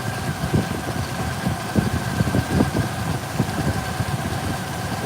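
A 2007 Ford Explorer 4.0L with a misfire idles rough up close, its uneven pulsing thumps loud and steady, with no voices.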